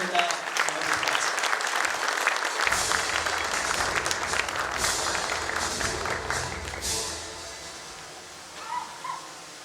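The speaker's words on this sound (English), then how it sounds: "Please welcome him with a round of applause." A convention hall audience at a business summit applauds loudly and steadily to welcome a senior military officer to the stage, the clapping dense and sustained for several seconds before thinning out near the end.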